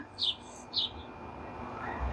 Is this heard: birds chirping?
yes